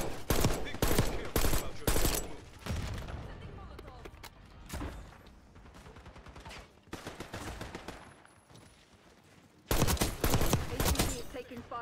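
Bursts of gunfire erupt in a video game shootout during an HVT face-off match, with loud rapid volleys at the start and again near the end and sparser shots between, while players talk over it.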